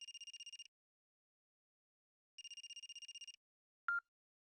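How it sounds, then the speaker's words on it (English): Telephone ringing in the video game Another Code Recollection: two bursts of electronic double-trill ringing separated by a pause, then a short higher beep, clear and alone with no talk. "Phone's ringing."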